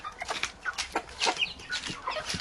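A young rooster clucks among mixed-breed chickens, with repeated short clucks and calls from several birds close by, overlapping in an irregular run.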